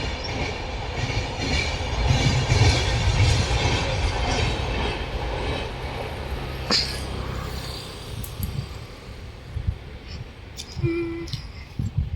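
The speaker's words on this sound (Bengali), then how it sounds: "সেই রাস্তা দিয়ে ওই পাশে ট্রেন যায়" A train rolls past nearby with a loud sustained rumble and clattering of wagons, a sharp squeal partway through, and the noise easing off toward the end.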